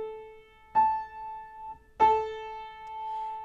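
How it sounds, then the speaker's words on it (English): A piano sounds A440 together with the A an octave above, struck twice about a second apart. Each clear two-note chord rings on and fades slowly, with nothing else heard. "Now listen to 440 times per second and 880 times per second together."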